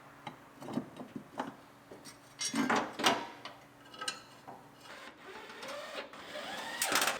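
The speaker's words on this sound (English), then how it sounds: "Tighten it all down with our electric torque wrench." An electric torque wrench tightens the bolts on a Chevrolet Silverado cab during reassembly after a rollover, giving short, repeated whirring and clicking bursts at close range, with brief pauses between runs.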